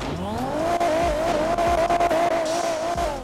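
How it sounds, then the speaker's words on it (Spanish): A modified Nissan Silvia with Japanese parts in the video game GTA roars loud and close, its exhaust pitch wavering as it revs, with brief tire squeals mixed in. "quiero que comparen también el sonido del escape"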